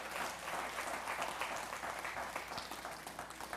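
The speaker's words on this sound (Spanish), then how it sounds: "Y no quiero que aplaudas" A church congregation applauds steadily throughout, a dense sustained patter of many hands at an even, fairly loud level, with no voices rising above it.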